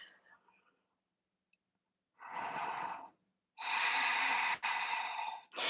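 Slow, audible breaths during a yoga pose, a soft intake followed by longer airy exhales, close and quiet with silence between.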